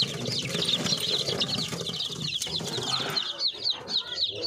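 Newly hatched chicks peep in a dense, continuous chorus of high, thin chirps, steady and close throughout with no talk over them.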